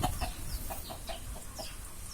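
A pair of restless chickens clucks in a steady string of short, moderately close calls over a low background rumble, with no speech.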